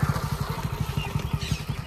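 A motorcycle engine ridden by a learner practising gear shifts, a close, steady low thumping throb with an even rhythm.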